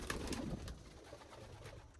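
Pigeons coo softly inside a pigeon room, low and faint murmuring over a steady background hum, with no talking.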